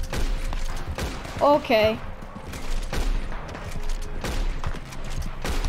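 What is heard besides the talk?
gunshots from the player's gun in a video game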